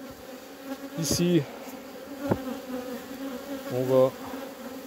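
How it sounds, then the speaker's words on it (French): Honeybees from a small swarm buzz steadily around a hive frame, a close continuous drone with a few louder passes, while someone speaks briefly over it. "Ça, les abeilles qui vont naître, on va renforcer ce petit essaim"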